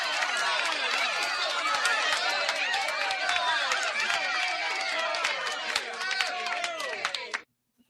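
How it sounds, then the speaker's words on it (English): Audience gives a round of applause for a guest on a morning live show, a dense, steady burst of clapping with cheers and chatter mixed in that runs for several seconds, then cuts off abruptly. "Round of applause for Graham from the Graham and Bob Show."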